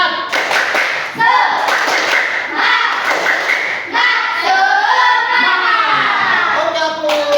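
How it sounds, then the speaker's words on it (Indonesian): A group of students in a coding and artificial intelligence class claps a patterned spirit clap, rhythmic bursts of hand claps and thuds repeating in sets, with voices chanting along. "Coba tepuk semangatnya lagi."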